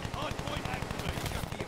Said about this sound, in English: that was a KG M40. Pretty solid assault rifle with no attachments.